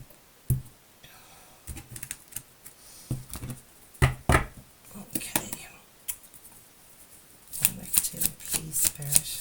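A deck of tarot cards is shuffled in quick riffles and soft slaps, with irregular bursts of crisp flicking and a denser flurry near the end, close and clear.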